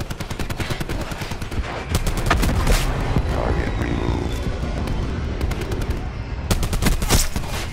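Suppressing gunfire in the video game Black Ops 4 crackles as loud, rapid automatic bursts, steady throughout with sharper, denser volleys near the start and end, against a rumbling battlefield backdrop.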